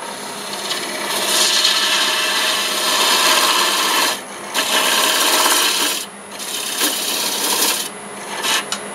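Gouge cutting red cedar on a wood lathe, a steady loud scraping rasp in long passes broken by short pauses, with no talk.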